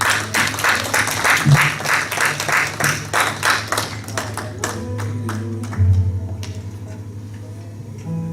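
Church congregation clapping during a praise service, a steady rhythmic beat of many hands that thins out and fades near the end, with music tones sustained underneath.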